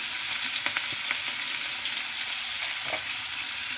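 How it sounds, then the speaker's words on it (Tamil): Onions with salt sauté in a pan while cooking mushroom biryani, giving a steady, close sizzle with a few soft stirring scrapes and no talk. "இப்போ நல்லா வதக்கிடலாம்"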